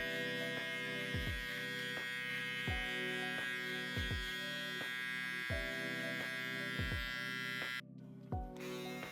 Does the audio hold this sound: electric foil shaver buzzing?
yes